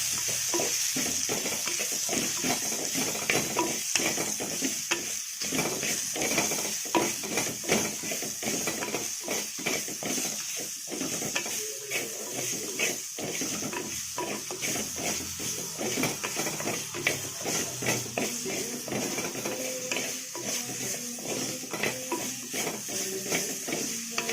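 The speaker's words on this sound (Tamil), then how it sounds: "இதையும் நல்லா பொன்னிறமாக நல்லா வதக்கிக்கலாம்." Food is sautéed in a pan until golden, with a continuous close sizzle and repeated scraping stirs of a spatula, no talking.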